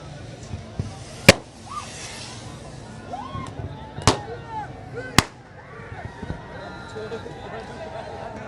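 Fireworks going off at a large political rally crowd, three sharp loud bangs spread across the clip with whistling rises between them, over a murmuring crowd and voices.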